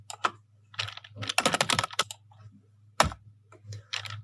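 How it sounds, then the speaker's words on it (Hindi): Keys on a computer keyboard are typed in quick irregular bursts of close, crisp clicks with short pauses between, no talking over them. "जैसे मैं इसमें कुछ भी फॉर एग्जांपल मैं टाइप कर देता हूँ"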